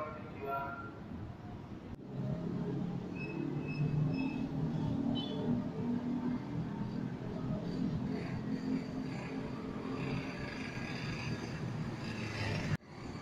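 Inside a KRL Commuter Line electric train, trainset TM 05-002, running at night, a steady low rumble and rolling noise fills the carriage at moderate level, with a few sharp clunks along the way.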